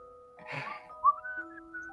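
A person whistles a few soft, clear notes of a song, a brief tune after some faint rustle, heard close against a quiet background.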